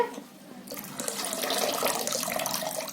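Tap water runs over fresh coriander leaves being rinsed clean, starting quiet and then swelling into a steady, close splashing stream that continues to the end.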